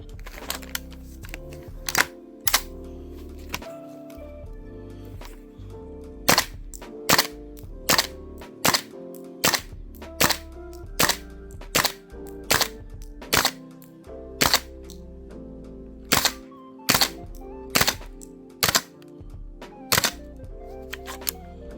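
A gas blowback airsoft rifle fires in -7°C winter cold, around twenty sharp, loud cracking shots in an uneven rhythm with short pauses and mechanical clatter between them.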